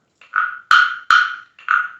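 Frogs croaking in a pond, four loud, close, rasping croaks in an uneven rhythm over silence.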